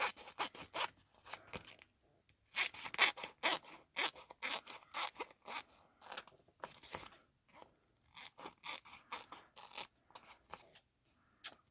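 Scissors snip through excess heat-transfer vinyl in quick, crisp clusters of cuts, with short pauses between groups, close and clear.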